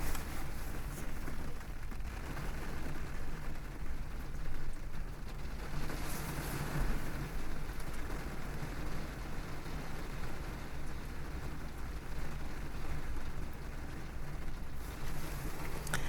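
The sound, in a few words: rain and wind outside during a storm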